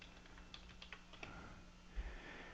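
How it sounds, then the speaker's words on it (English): Computer keyboard typing a short search, a quick run of light close keystroke clicks followed by a faint bump, quiet and alone. "I'm going to type in Godzilla"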